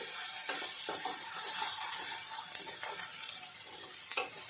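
A spoon stirs chopped tomato and ginger into dal in a pot, scraping and clicking in irregular strokes over a constant frying sizzle, close and with no talk.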